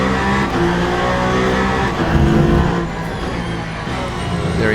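BMW race car engine in Le Mans Ultimate during the 8 Hours of Bahrain, a loud sustained roar rising and falling with gear changes and revs, continuous throughout, no talk.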